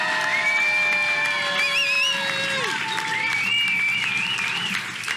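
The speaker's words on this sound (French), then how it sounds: "Et faites un tonnerre d'applaudissements, s'il vous plaît, pour nos invités exceptionnels du jour." A crowd applauds and cheers for guests at a live tech event in Nantes, dense clapping with whoops and bright whistles or shouts rising over it, loud and sustained throughout.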